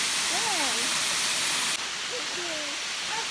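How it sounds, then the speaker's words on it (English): A big waterfall in a lush hiking oasis gives a steady, broadband roaring rush that fills the whole clip, with a person talking over the constant water noise. "Look at that big waterfall."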